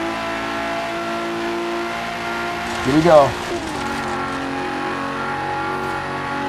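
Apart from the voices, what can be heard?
Final Fantasy Regalia engine accelerating in Forza Horizon 3 video game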